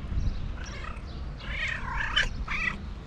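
A talkative cat meows at close range, giving a few short chirping calls followed by a longer, drawn-out meow.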